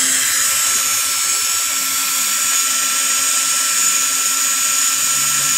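A DC 795 motor powered by a Makita 12 V battery spins at high speed with a steady, loud, high-pitched whine, constant and close throughout with no talk.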